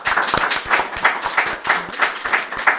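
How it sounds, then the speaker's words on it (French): Studio audience applauding in a steady, fairly close burst of rhythmic clapping that continues throughout with no talk over it. "On peut les applaudir, évidemment"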